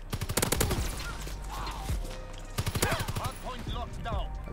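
Rapid bursts of DLC weapon fire in Call of Duty WW2, loud and close, with repeated automatic volleys separated by short gaps, someone talking over the shooting.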